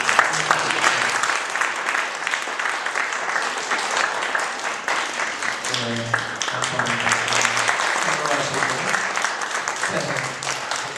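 Sustained applause from a Korean church congregation during a Sunday worship service, steady and fairly loud throughout, with voices singing or calling out over the clapping partway through.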